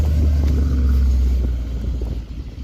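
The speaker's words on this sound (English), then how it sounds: "car's starting up" A Mercedes AMG car's engine idles with a steady low rumble just after starting, loud and close, easing slightly toward the end.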